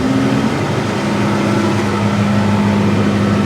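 Farm machine engine on a Western Australian harvest, revving steadily as the PTO engages for unloading into a chaser bin; a loud, continuous close drone with a sustained low hum that shifts pitch slightly early on.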